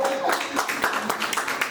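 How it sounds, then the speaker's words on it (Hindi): An audience applauds for mothers at a private-school speech event, a dense run of overlapping hand claps filling the whole stretch at moderate loudness. "इन माओ के लिए तालियां बजवा दो।"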